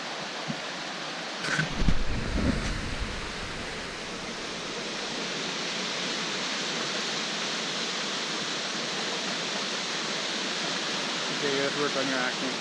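Steady broadband roar of a waterfall by the Little Salmon River near a bridge, loud and continuous throughout, with a voice speaking briefly over it near the start.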